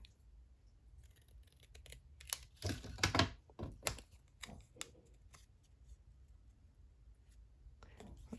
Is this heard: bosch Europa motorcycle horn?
no